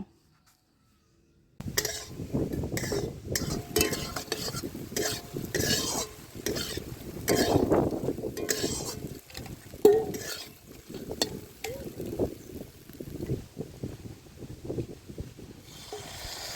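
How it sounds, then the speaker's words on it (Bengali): A spatula stirs fried potato and soybean chunks into a spiced curry in a pan, with continuous scraping, clinking against the metal and a soft sizzle, close up and steady throughout. "এবার আমি ভেজে রাখা আলু সয়াবিনটা দিয়ে দেব।"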